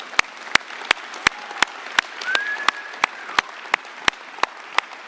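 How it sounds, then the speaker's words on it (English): A church congregation claps during a service, sharp claps landing in a steady, evenly spaced rhythm, with faint murmuring underneath. "All right, let's clap for all of them."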